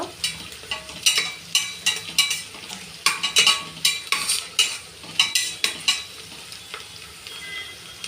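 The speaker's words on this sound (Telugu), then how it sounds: "సో ఇప్పుడైతే మటన్ అనేది వేస్తున్నానండి." Mutton fries and is stirred in a pan for spicy bagara rice, with repeated scraping strokes of a utensil in a fairly regular rhythm over a steady sizzle, close and clear, no talking.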